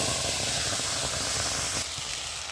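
Ground spice paste hits hot oil with a bay leaf in a wok for prawn malaikari. A loud, close hissing sizzle holds steady, then drops to a softer simmer near the end.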